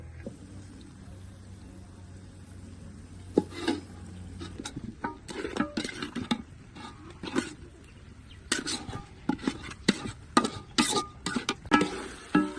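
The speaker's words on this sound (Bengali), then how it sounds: "এখন মুরগিটা দিয়ে দিব" Chicken added without pre-frying to cooked spice masala in a pan, producing a run of close scraping and clattering stirs against the pan over a steady background hum, with no talk.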